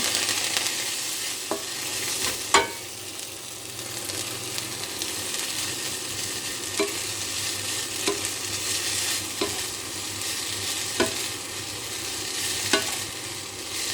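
Ostrich fern tossed with chili and shallot in a hot pan gives a steady moderate sizzle, broken by sharp spatula clicks and scrapes every second or two.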